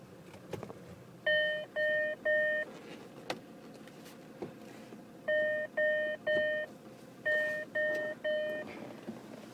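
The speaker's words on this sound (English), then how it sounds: "You can see a beep sounds and the diff lock light" Diff lock warning beeps from a 2004 Land Rover Discovery SUV sound in three groups of three evenly spaced electronic tones, clear and close over a quiet background.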